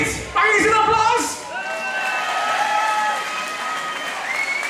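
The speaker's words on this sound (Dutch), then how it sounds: "Dat is de Geert! Mag eens een applaus!" Audience applause and cheering at a Dutch-speaking fan evening, starting abruptly and carrying on steadily from a crowd, with people talking and calling out over the clapping.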